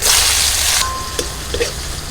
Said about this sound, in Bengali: ভেজে নিচ্ছি কড়াতে যে তেল আছে ওই তেলের মধ্যে আমি দিয়ে দিচ্ছি পেঁয়াজ কুচি